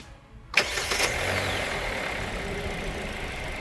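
A 2017 Kia Forte engine cranks and catches after a brief silence, then settles into a steady, close idle.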